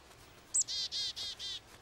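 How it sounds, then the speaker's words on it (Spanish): A small cartoon bird chirps close and clear: a quick high tweet followed by four evenly spaced, bright chirps over near silence, with no talking. "¡El pájaro! ¡Abuela, está en mi mano!"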